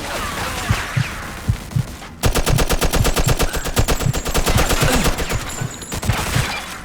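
Rapid automatic gunfire from the Mafia II: Definitive Edition video game, loud, dense bursts running almost continuously after a brief pause, with heavy thumping impacts underneath.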